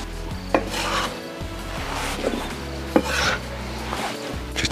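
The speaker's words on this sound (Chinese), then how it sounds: "把西红柿切成小小丁就对" A knife chopping tomatoes into small dice on a board in a home kitchen, with a steady run of near, crisp cuts and board knocks, no talking.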